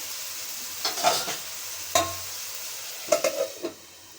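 Onions sautéing in a pan for a ridge gourd and raw prawn curry, heard as a soft background sizzle broken by a few stirring scrapes and clinks that come in short bursts, with no talking.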